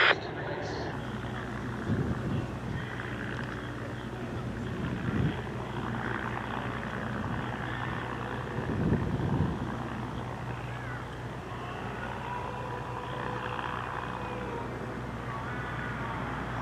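A Lockheed 12A Electra, a twin-engine propeller airliner, flies a display at Sywell Airshow 2024, its engine drone steady and fairly loud throughout with a few swelling passes, heard outdoors alongside intermittent voices.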